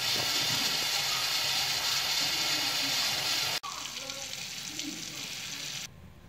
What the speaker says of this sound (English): Next, turn on the hot water to get the air out of the system.